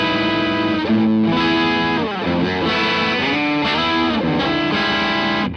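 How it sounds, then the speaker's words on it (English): Dense electric guitar chords played through a Fender effects pedal set to a higher-gain rock crunch tone, ringing loud and steady with shifting chord changes and no voices. "it gets definitely good higher gain rock crunch tones"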